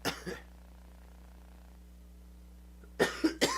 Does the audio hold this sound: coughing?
yes